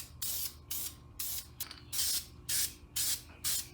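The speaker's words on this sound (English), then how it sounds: "I'm going to go ahead and spray 2 to 3 coats of the black paint" Bursts of black aerosol spray paint hissing onto brake caliper brackets in a steady rhythm, seven or eight short sprays with brief pauses between, close by.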